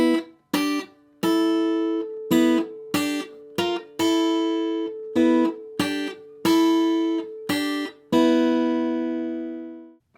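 An acoustic guitar plucks a riff on the two highest strings as paired notes, about a dozen crisp, close double-stops in the familiar stop-start rhythm, the last one left to ring out.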